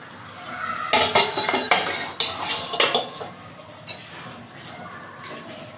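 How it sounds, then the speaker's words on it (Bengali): A metal lid comes off a cooking pot in a village kitchen, with clanking and clinking of metal against the pot in a short, uneven burst of knocks, fairly close and without speech. "ঢাকনাটা খুলে নেব।"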